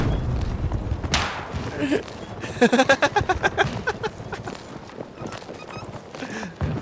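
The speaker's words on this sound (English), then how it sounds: "I hear you stomping around." Heavy footsteps stomp around in Battlefield 2042, a rapid run of thudding steps loud and close in the middle, with game noise around it and a voice talking before and after.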